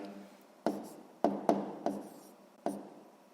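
Pen or pencil taps and short scratches on paper as the scale is written out for a sixth-grade math exercise, five distinct strokes, close and quiet, no talk.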